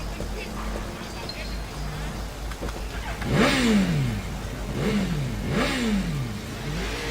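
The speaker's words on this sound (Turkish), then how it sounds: "Motosikleti çalıştırması uzun sürüyor ama normalde de öyledir zaten yani." A motorcycle in the Sleeping Dogs game cranks slowly before its engine catches, then revs in three rising and falling bursts close by, with a steady engine drone underneath.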